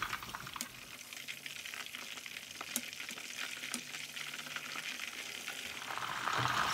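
Spicy battered chicken fries in hot oil with a steady, dense sizzle and scattered pops and crackles that keep going throughout.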